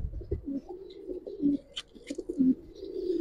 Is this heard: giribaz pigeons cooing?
yes